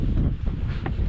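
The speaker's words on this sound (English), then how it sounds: "Didn't get out on the water because of the wind." Wind buffets the microphone at a lake campsite at Spectacle Lake, Wisconsin, a dense, steady low roar with gusty surges, close and fairly loud, with no other sound standing out.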